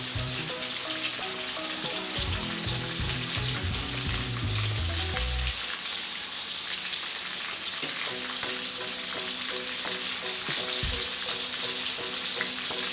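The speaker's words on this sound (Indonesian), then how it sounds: "Kita goreng sampai warnanya kuning keemasan." Prawns frying in hot oil until golden and crispy, a steady close sizzle that runs throughout, with low bubbling and occasional clinks early on and no talking.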